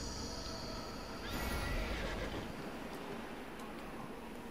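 A horse in the fantasy video game Neverwinter whinnies loudly, with hoof clip-clop and a steady ambient game background underneath.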